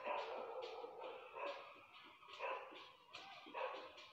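Several dogs bark repeatedly at night in a neighbourhood in Senegal, sharp yelps and barks arriving in irregular bursts about once a second, moderately loud and slightly distant over a quiet background.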